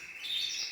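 Domestic canaries give a short, faint, high chirping trill, alone and brief.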